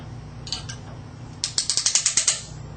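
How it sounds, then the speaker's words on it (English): Plastic clamps ratchet shut to lock a GF Signet 2552 magmeter sensor hub onto a pipe: a couple of clicks, then a quick run of about ten sharp ratchet clicks, close and alone. "The clamps will lock the hub into place."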